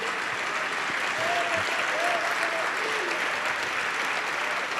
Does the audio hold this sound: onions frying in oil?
no